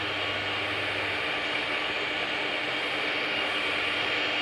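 A steady, dense roar of both jet engines running continuously at an even level in the Aerofly 2 flight simulator, with a low hum underneath that fades after the first second.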